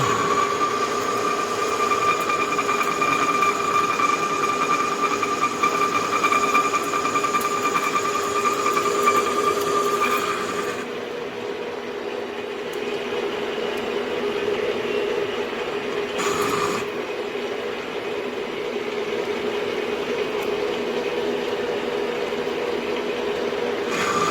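A machine, likely a lathe, spins a KTM shaft at 700 rpm with a steady mechanical drone and whining tones, and the pitch drops partway through as the running note changes, with no speech.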